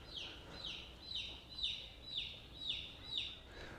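Repeated high chirping peeps from small silkie chickens, about eight evenly spaced calls over faint background noise.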